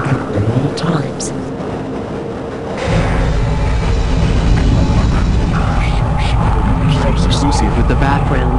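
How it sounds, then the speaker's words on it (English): A train in the game Half-Life: Opposing Force rolls along with a low, steady mechanical rumble that swells after a quieter opening and keeps droning to the end, with a voice speaking over it. "This train is inbound. From Sector C."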